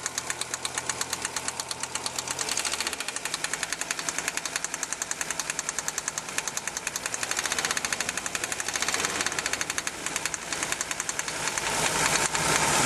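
A 1987 Audi 4000S idles with a lifter tick, a rapid, even metallic ticking that runs steadily through the close, loud engine drone without pause.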